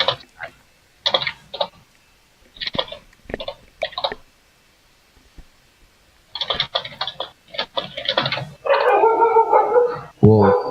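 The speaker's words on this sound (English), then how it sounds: "I can hear your dog" A dog barks repeatedly in short, sharp bursts, fairly near, with louder howl-like barking near the end and quiet keyboard typing between the barks.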